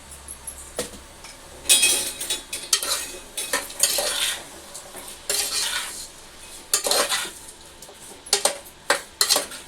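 A spoon scrapes and clatters against a metal pot while fenugreek curry is stirred over the heat, in loud, irregular strokes over a faint sizzle, with no talking.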